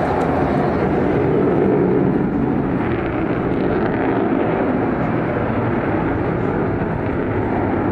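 An Avro Vulcan jet bomber roars continuously overhead at the 2015 Bournemouth Air Show, a broad, rushing wash of engine noise, loud and sustained over a bit of wind buffeting.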